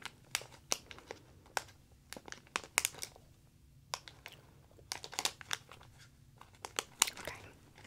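Plastic packaging from a Pokemon Champion's Path card set crinkles and crackles close up in irregular bursts of sharp rustles with quiet pauses between them, and no one speaks.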